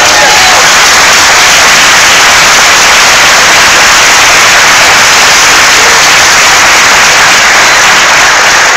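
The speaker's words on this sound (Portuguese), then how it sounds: "Então dê um aplauso ao Senhor agora." A church congregation applauds during a Portuguese-language sermon, producing a dense, steady roar of clapping that is very loud and continuous throughout, with no speech standing out.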